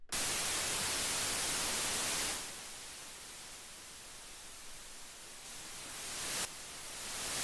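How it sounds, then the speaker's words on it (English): Steady electronic noise from an iOS signal-generator app hisses, shifting from bright white noise to a darker, softer pink noise, then brightening again; no voices. "you've got white noise. And you've got, so white and pink noise"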